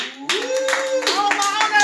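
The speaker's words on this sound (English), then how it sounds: "Audience, if you think Karen should win, clap Angier right now." A live event audience claps to vote for a contestant named Karen, a burst of applause that starts abruptly and carries on loud and close with whoops and voices over it.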